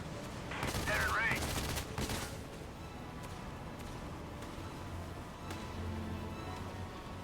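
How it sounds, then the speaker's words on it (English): Gunfire in the video game Valkyria Chronicles 4, a quick burst of distant rapid shots early on, followed by sparser faint pops under low game ambience. "They're firing at me!"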